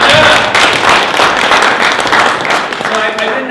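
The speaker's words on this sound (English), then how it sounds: "Give yourself a round of applause." A crowded room at a community event on the West High Blowouts bursts into loud, sustained applause, a thick continuous wash of clapping from many hands.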